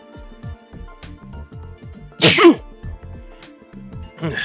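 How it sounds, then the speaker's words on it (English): One sharp, loud sneeze bursts out in the middle of a stretch of scattered tapping and clicking sounds, with no one speaking. "Oh god, I'm gonna sneeze."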